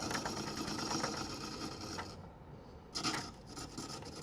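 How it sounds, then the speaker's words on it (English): Wood being turned on a lathe with scraping cuts, a continuous close rasping scrape that drops away briefly and then resumes, with no talk over it. "Just want to get that wood out of the way, which is why we're doing scraping cuts."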